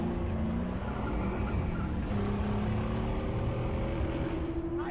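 Max's car drives in the Mad Max video game, a continuous loud engine drone with shifting revs and tire noise throughout.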